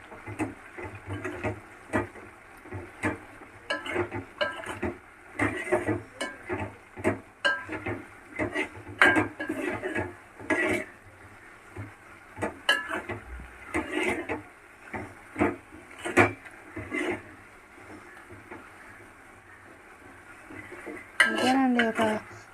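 Sesame flour is stirred into a panaganti leaf curry in a pan, with steady scraping and knocking of a spoon against the pan in irregular bursts, close and moderately loud, as a voice talks throughout.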